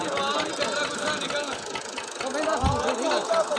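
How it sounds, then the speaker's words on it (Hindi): A tractor-driven Al-Fayyaz threshing machine runs with a steady, knocking mechanical churn and rapid rhythmic thumps, heard at close range and moderately loud. "ये अभी आप अपनी स्क्रीन पर जो थ्रेशर को है वो चलता देखेंगे।"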